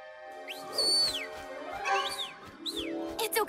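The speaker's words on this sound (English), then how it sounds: "There! A bird!" A cartoon bird calls at night with rising and falling whistled chirps, several separate bursts over a soft musical background, fairly close and clear.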